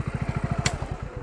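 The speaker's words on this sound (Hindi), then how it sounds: "इंजन है पूरा साइलेंट किलर तो नहीं है, थोड़ा साउंड तो करता है।" A Honda SP 125 motorcycle engine runs at idle close by, a steady rapid low thumping pulse with one brief sharp click partway through and no speech.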